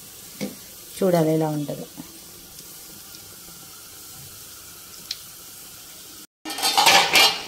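Chicken curry cooks in palm oil in a home kitchen: a low sizzle runs underneath, short clinks of a utensil sound, and a burst of loud frying comes near the end, with someone speaking briefly early on.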